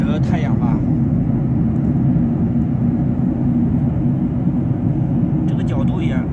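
A steady, loud airplane cabin roar fills the air in flight at sunset, continuous and close, with someone speaking briefly at the start and again near the end.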